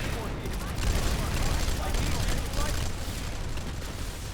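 Dense, continuous rolls of gunfire and explosions fill a video game battle scene, loud and unbroken throughout.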